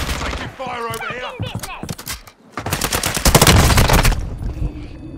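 Dense bursts of automatic gunfire in the Warzone battle royale game, rapid loud volleys crackling close by, with radio-style voice chatter and game callouts mixed in before the heaviest firing.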